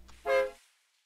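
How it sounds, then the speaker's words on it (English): A steam tractor's horn in the Eco video game gives one short, clear toot, loud and alone, fading quickly into silence. "And as soon as you honk it once,"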